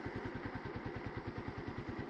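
Idling close by, a motorcycle engine mounted in a battery auto-rickshaw beats out a quick, regular thumping rhythm, its mechanical chatter steady and unchanging from start to finish.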